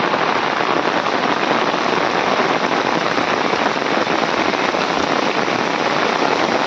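Steady, loud rain pours over paddy fields in the Konkan countryside, a dense, even hiss of drops on water and mud with no pauses and no voices.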